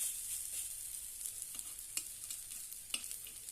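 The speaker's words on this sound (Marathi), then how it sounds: "छानपैकी दोन्ही बाजूने खरपूस असे आपण आता हे भाजून घेऊया" Mixed sprout appe roasting in an appe pan until crisp on both sides, a faint, steady sizzle of frying batter with a few soft clicks and taps of a utensil.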